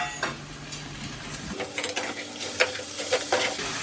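Chopped tomatoes go into a pan of fried onions for a paneer cashew biryani, starting with stirring clatter, then a bright, close sizzle with crackling bursts; no talking.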